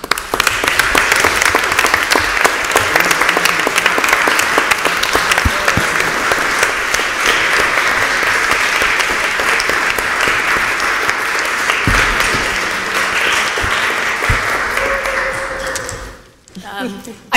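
Loud, sustained audience applause fills a city council meeting chamber for about sixteen seconds of dense, steady clapping, then cuts off abruptly near the end.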